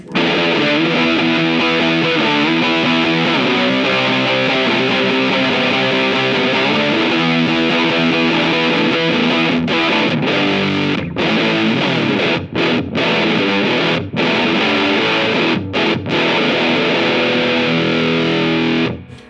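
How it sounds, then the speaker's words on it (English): Heavily distorted, fuzzy electric guitar through the fuzz effect of a GTRS S800 intelligent guitar plays sustained chords, loud and continuous, with a few brief gaps near the end. "There's even some fuzzes here."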